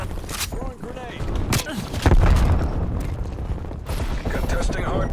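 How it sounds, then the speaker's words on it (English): A grenade explodes in Call of Duty: Black Ops Cold War with a heavy, low boom about halfway through, surrounded by scattered gunfire and battlefield noise, while game announcer voices speak over the action. "Throwing grenade."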